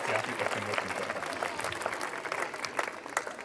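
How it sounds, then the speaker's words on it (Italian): Audience applause at a parish youth summer program's opening evening, steady clapping from a crowd with some background voices mixed in, sustained for a few seconds at moderate loudness. "Un grande applauso"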